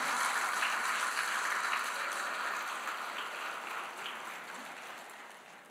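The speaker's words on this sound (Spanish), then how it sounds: "Vamos a darle fuerte ese aplauso, por favor." A church congregation applauds after a sermon, a dense, fairly distant wash of clapping that slowly fades away, with no talk over it.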